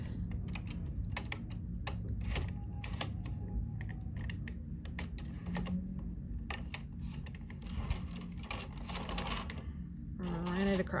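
Knitting machine carriage sliding across the needle bed while working an intarsia shawl, giving a run of rapid clicking, clattering mechanical strokes at close range, steady and fairly loud throughout, with a voice talking over it.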